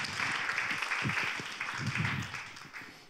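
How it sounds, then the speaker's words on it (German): Audience applause for someone called onto a stage, a moderate patter of many hands clapping for about three seconds before fading slightly. "Jetzt ein schönes Applaus bitte für unseren."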